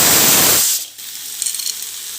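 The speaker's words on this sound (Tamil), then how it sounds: "ரெண்டு வதக்கு வதக்கிட்டு சுவிட்ச் ஆஃப் பண்ணிடலாம்" Mint leaves sautéing in a pan with roasted gram and tamarind for chutney, a loud frying sizzle that cuts off abruptly, followed by softer crackling and faint hiss.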